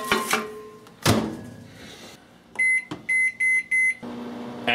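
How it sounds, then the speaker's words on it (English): A microwave oven heats a Hungry Man grilled beef steak dinner: a couple of door thunks, a low steady hum, then a quiet pause and four loud, evenly spaced beeps before the hum resumes. "So let's stove this baby in the microwave and, well, see what it comes out like."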